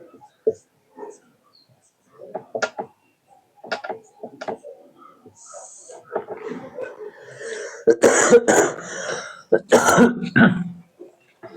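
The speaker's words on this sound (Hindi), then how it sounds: "खांसी आ रही है" A man coughs and clears his throat several times while ill during a class, harsh bursts growing louder and more frequent toward the end, with brief pauses between.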